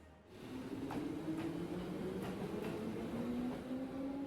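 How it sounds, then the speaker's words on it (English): In the video game Legend of Heroes: Trails of Cold Steel, a loud train rumbles steadily past, with a low droning hum and periodic clacking from the rails, no voices. "Dude, that's a loud train."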